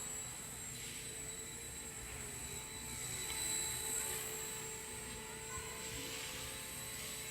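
Faint, steady high-pitched whine of a Walkera Genius CP flybarless RC helicopter's motor and rotor flying slow circuits at a distance, with a soft whooshing swell midway.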